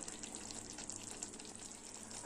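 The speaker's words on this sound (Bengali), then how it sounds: "আমি এবার চার চামচ সর্ষের তেল দিয়ে দিচ্ছি" Mustard oil poured into a pan of hilsa fish paturi, giving a soft, steady frying sizzle with a faint liquid trickle, close and low in level, with no talk.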